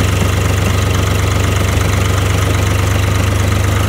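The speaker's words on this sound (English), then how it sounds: "That's starter grinding." A car starter motor grinds, likely from a worn Bendix drive, producing a loud, steady, close mechanical drone with a rough low rumble, continuous and unbroken, with no voices.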